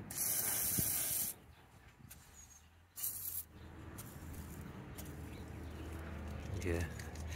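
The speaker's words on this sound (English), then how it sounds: "Just going to spray a little bit of WD-40 on that." WD-40 sprayed onto a car's windscreen drain hole, a loud hissing burst for about a second, then a quieter one, with steady background noise and some handling afterward.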